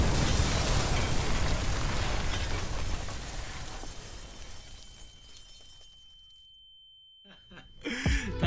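A loud explosion sound effect, a dense roaring burst that slowly decays over several seconds into near silence before a brief voice follows.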